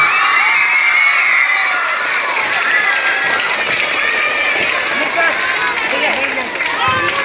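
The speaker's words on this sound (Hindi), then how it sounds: "सभी लोगों की गुजारिश है एक बार आप लोग तालियों से इन लोगों का जोरदार स्वागत करें।" A school crowd at an annual sports prize distribution cheers loudly as senior teachers are welcomed on stage. Children shout and whoop continuously over a busy, close wash of crowd noise.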